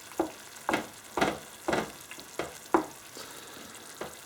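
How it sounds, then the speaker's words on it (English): Tomatoes cooking down in a pan for a meatball sauce, heard as a series of soft, evenly spaced scraping and bubbling bursts about every half second against a quiet background, with no speech. "really you can let those simmer away for a good 10-15 minutes or so"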